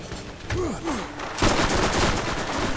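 Explosive gun firing in the video game Borderlands, a dense rumbling barrage of shots and blasts with low bursts rising partway through, over a noisy game background.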